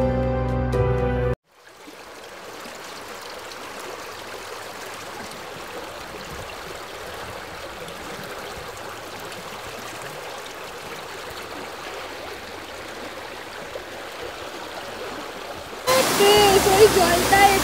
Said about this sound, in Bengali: ওই জলটা এখান থেকে নেমে যাচ্ছে